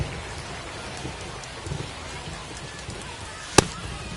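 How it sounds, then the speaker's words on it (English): Rain pouring down on a baseball field in MLB The Show 25, a steady dense hiss of falling drops throughout with a single sharp crack near the end and no talk. "We're coming right up against it with the way this rain is coming down."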